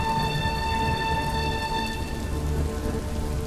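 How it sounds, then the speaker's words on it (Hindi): Steady rain falling through a stormy night with strong wind, a continuous close wash of drops on surfaces, alone and without voices. "तेज हवा और शब भर बारिश, अंदर चुप और बाहर बारिश।"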